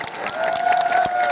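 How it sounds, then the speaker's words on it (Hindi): An audience at an election rally in Nohar, Rajasthan, claps in a brisk, continuous patter of applause that swells slightly and carries on evenly, with faint crowd murmur mixed in. "ताली बजाइए"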